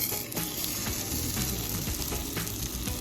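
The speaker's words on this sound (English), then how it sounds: "then we're just gonna lay it in the pan this side down" An egg-soaked English muffin sizzles steadily in a hot pan, a close, continuous frying crackle with occasional faint clinks and no talking.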